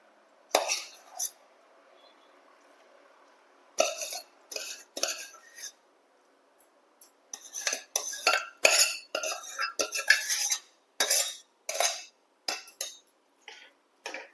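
Metal spoon scraping and clinking in a bowl while mashed rice for curd rice is mixed, in bursts of stirring and clinks separated by short pauses, close and fairly clear.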